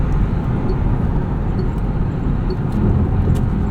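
A 2025 Lucid Air Touring electric sedan powers out of a corner, its steady, loud wash of road and motor noise filling the cabin without a break.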